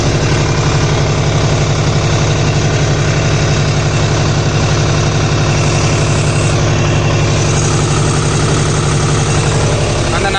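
A New Holland 6010 Excel tractor runs in two-wheel drive while pulling a duck foot cultivator, its diesel engine throbbing loud, steady and close the whole time.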